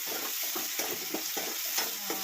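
Tomato goes into a hot frying pan while making a bitter gourd and okra gravy, giving a loud, close, continuous sizzle broken by rhythmic stirring scrapes, with no voices.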